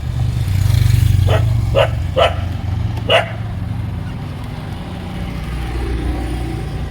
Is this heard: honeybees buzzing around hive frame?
no